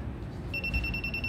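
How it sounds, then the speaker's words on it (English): A steady electronic warning beep from a bike alarm, a student-built electrical engineering project, starts partway in and holds as a bright, sustained tone over a quiet room. "it has a warning beep right there."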